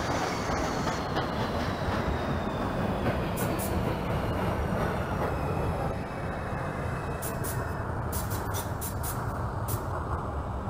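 A Brooklyn-bound New York 2 subway train in the OpenBVE simulator, AM rush hour, runs with a continuous loud rumble and roar, faint high whines, and a burst of clicking track noise near the end; no voices.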